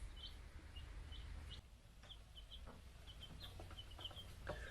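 Young egg-laying chickens cluck softly in short, scattered chirps over a low, steady background hum, faint and close, with no voices.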